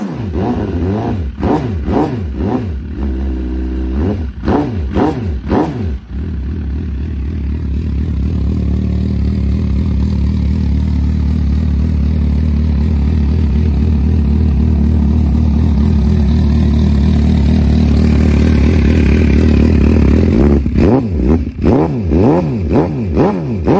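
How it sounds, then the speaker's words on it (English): A fuel-injected, water-cooled MV Agusta Brutale 1078 RR inline-four motorcycle engine is started, blipped in several sharp revs, then held at a steady high idle before a final burst of quick revving, loud and close with no talk. "The MV is an inline four water-cooled four-stroke engine, it's fuel injected. Let's have a listen to it,"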